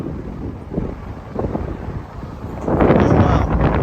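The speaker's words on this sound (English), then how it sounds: "This is all damaging winds and hail." Storm winds buffet a vehicle during a severe storm with damaging winds and hail, a steady roar that swells and grows much louder and rougher near the end, with no talk.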